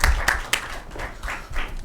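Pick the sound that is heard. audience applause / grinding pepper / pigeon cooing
audience applause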